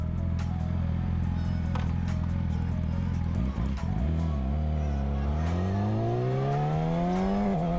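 A Yamaha R6 motorcycle on a street ride, engine droning steadily, then a sharp break and drop in revs from a quick-shifter upshift around the middle, after which the engine note climbs smoothly again, loud and close.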